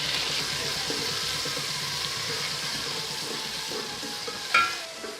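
Ginger, green garlic and green onion fry in ghee with a constant close sizzle and light stirring, then a brief sharp clink near the end; no one speaks.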